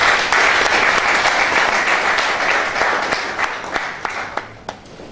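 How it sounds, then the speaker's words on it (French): Sustained crowd applause at the official launch of a 2013 craft fair, dense steady clapping that holds for several seconds before thinning out, with a few louder individual claps near the end. "Et je voudrais donc vous inviter à les applaudir tous."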